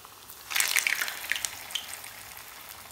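Pieces of makrout semolina dough frying in shallow oil, a soft steady sizzle with crackling pops that grow busier briefly then settle, close but fairly quiet.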